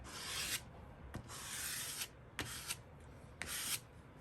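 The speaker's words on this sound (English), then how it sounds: "I'm just gonna dump this little card in there and do this scraping technique here." A card drags paint across a journal page in four long raspy scrapes, each about half a second to a second long, with brief pauses between strokes. The scraping is close and steady, and no one speaks.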